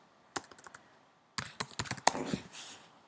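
Keys clatter on a computer keyboard in close, quick bursts: a few scattered presses, a pause, then a denser flurry of typing, with no talking.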